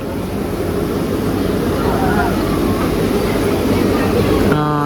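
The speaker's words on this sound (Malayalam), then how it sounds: "7:12 ആയപ്പോൾ 2 വിസിലടിച്ചിട്ടുണ്ട് നമ്മുടെ എൻജിൻ. ഇപ്പം എടുക്കുമായിരിക്കും കേട്ടോ." The Nilgiri Mountain Railway toy train begins to pull away in monsoon weather, a loud, steady low rumble and churn of the engine close by, with a tonal horn-like sound rising near the end.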